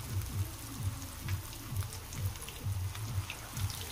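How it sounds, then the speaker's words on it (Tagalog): Mulberry leaves coated in cornstarch frying in hot oil in a small crowded pan, giving a soft, steady sizzle with faint crackles and a gentle repeating bubbling throb, with no voices. "Ready na po tayo para mag-prito nito."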